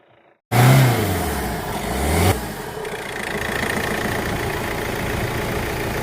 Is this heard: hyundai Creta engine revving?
yes